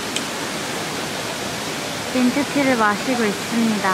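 A valley stream in Chefchaouen, Morocco rushes in a steady, close wash of flowing water, while a person speaks briefly over it toward the end.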